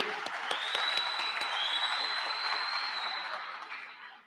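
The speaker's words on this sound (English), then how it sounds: "Please give her some applause." Faint, distant audience applause at a Ward 9 by-election town hall debate, steady clapping under a thin electronic whine, heard from far off.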